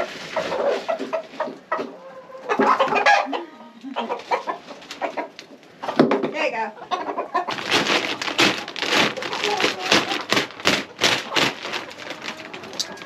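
Chickens cluck and squawk busily up close, a dense, continuous chorus of clucking that grows livelier toward the end.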